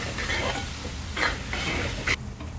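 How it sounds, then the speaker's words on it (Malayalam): Chopped onion-and-chilli masala for a green chilli egg masala browning in a pan, with a constant close sizzle and a few scraping stir strokes before it cuts off abruptly near the end. "മൂക്കണ വരെ നമുക്കൊന്ന് ഇളക്കി കൊടുക്കാം"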